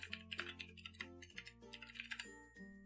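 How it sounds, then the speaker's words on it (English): Quick bursts of computer keyboard typing, irregular clusters of crisp key clicks, close and faint over a low steady background tone. "I'm slow to type because I have to hold down my Discord to toggle the talk button at the same time as typing"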